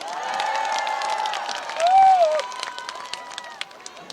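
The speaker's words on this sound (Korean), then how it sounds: "그래서 이렇게 박수 한 번 주십시오" A festival crowd at an outdoor trot concert claps steadily, the applause mixed with cheering voices and a held vocal or whistle-like tone that swells briefly in the middle.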